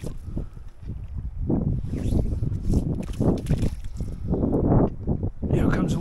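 Gusty wind rushes past the microphone beside the Arkansas River tailwater near Pueblo, Colorado, swelling and easing in broad low roars under moving water, with a brief gap near the end.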